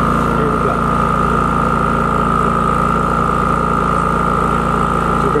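A WEN 3800 inverter generator engine runs steadily, a loud constant mechanical drone with a strong even hum and buzzing tone that holds unchanged from start to finish.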